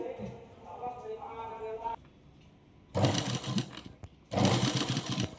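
Sewing machine stitching gathered basket-style sleeves, two loud bursts of rapid mechanical stitching up close, preceded by someone speaking.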